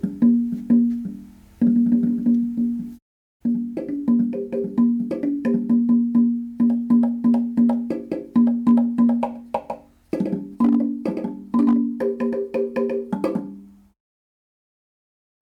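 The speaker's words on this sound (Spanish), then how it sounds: "el nombre de teponaztli, que hoy en día se conoce como tambor de lengüeta" A teponaztli-style slit tongue drum, a modern version built by a percussionist, plays a melodic run of resonant, sustained tones with a steady rhythm and a brief pause around three seconds, then rings out to silence near the end.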